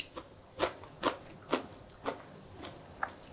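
Someone close by bites and chews a seasoned soybean sprout dish eaten with Korean melon and hot mustard, making about seven crisp, crunchy bites in a fairly even rhythm, with softer squishy chewing between them.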